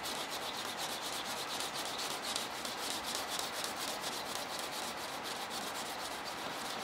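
Continuous rhythmic scrubbing, a dry abrasive rubbing of old baked-on tint off a car's rear window glass, steady and close with quick repeated strokes and no voices.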